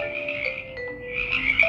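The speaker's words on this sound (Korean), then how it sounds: "우와 개구리네" A frog croaks in short, close, fairly loud repeated calls, heard alone with no talking.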